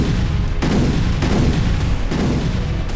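Explosions at a destroyed weapons depot in western Donetsk, a loud continuous rumble punctuated by several heavy booming blasts, distant but powerful.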